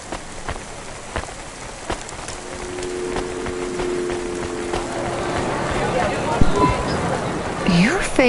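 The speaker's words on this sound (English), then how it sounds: "Don't let all the rain get you down." Steady rain falls in the Cloudpunk video game city, a continuous hiss with scattered drip ticks that grows slightly denser. A voice-like sweep comes in near the end.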